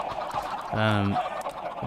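A Minecraft chicken farm, with a single short throaty cluck rising out of a busy background of game noise.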